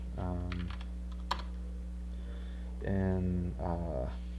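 Quiet keystrokes on a computer keyboard, a few soft clicks beneath someone speaking close to the microphone during a Windows Server lab walkthrough.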